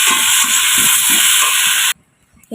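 Water hits vegetables frying in a hot pan and throws up a loud, close, steady steam hiss and sizzle that lasts about two seconds, then cuts off abruptly into near silence.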